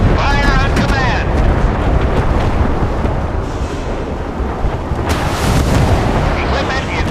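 Naval guns and explosions boom in a warship battle game, dense and loud throughout with continuous rumbling blasts, and a voice is briefly heard early on.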